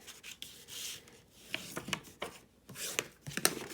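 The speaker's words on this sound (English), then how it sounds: "I would go in and burnish them." A bone folder burnishing fold lines on cardstock for a handmade greeting card: close, dry rubbing strokes in short uneven passes, with small scrapes and taps between them.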